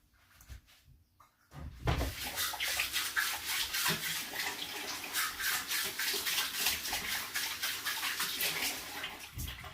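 Water rushes steadily from a tap after a quiet start with a few faint knocks, and the splashing flow stays loud and continuous to the end.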